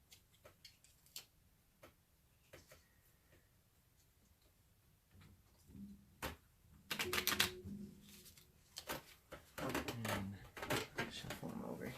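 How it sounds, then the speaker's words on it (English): Quick riffling and soft clicking of playing cards being shuffled, in several bursts that grow louder and denser toward the end, close by in a quiet room. "And shuffle them over here."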